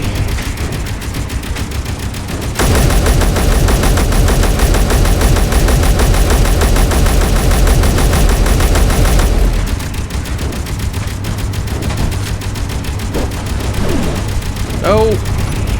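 Sustained automatic gunfire in a Space Engineers fight, with a loud, dense machine-gun burst running from about 2.5 to 9 seconds, then scattered rapid shots and pinging effects over steady engine hum.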